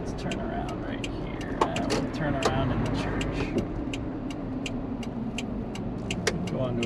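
Interior of a 1986 Toyota van turning around and pulling onto a gravel road, steady engine and road noise with repeated crunching clicks of gravel under the tires, someone talking over it.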